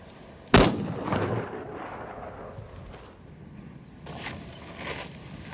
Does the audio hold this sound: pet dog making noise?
no